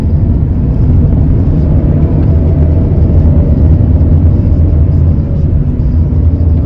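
A car's exhaust with a stock silencer drones loudly and steadily, a deep continuous rumble with no talking over it.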